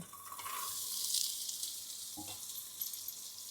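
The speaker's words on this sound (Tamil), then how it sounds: "எண்ணெய் காஞ்சிருச்சு இந்த சின்ன வெங்காயம் பச்சை மிளகாயும் போட்டுடலாம்" Shallots and green chillies sizzle and fry steadily in hot sesame oil inside a cooker pot while making Coimbatore sambar, a continuous close crackling hiss with a brief stir near the middle.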